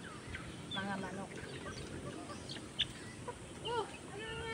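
Chickens clucking and a rooster calling at feeding time on a poultry farm, scattered soft clucks and squawks over a steady background hum, faint and at a moderate distance.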